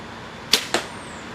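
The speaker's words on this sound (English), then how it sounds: "And shoots, got just a little bit of sound, just a little bit of vibration to it." A Rytera Seeker 365 bow from 2011 fires an arrow, giving a sharp, close release snap followed a beat later by a second, softer thwack, both brief against a quiet background with no talking.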